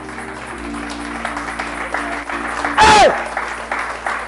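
A church congregation bursts into cheering and applause for the king, a loud sudden swell lasting about a second amid a preacher's talk and shouts.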